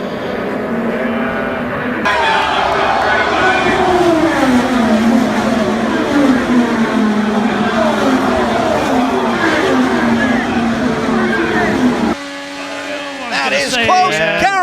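A race car on a high-speed track roars loudly through a crash, engine noise and grinding continuing for over ten seconds before cutting out, under a commentator's excited talk.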